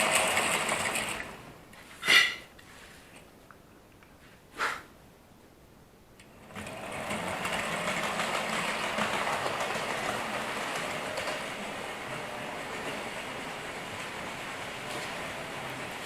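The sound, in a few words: model railway freight train running on layout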